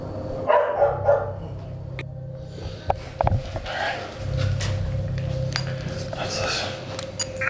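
Dogs bark outside a house, a few sharp barks and yips heard at a distance under murmuring voices and a steady background hum, with an occasional clink.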